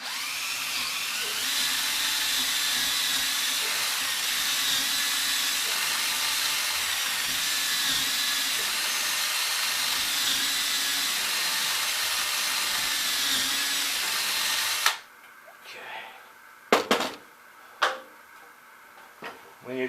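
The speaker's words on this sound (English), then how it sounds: "I'm going to try to drill it nice and straight" A power drill whines steadily and loudly for about fifteen seconds while drilling a bolt hole, then cuts out, followed by a few short bursts and quieter clunks.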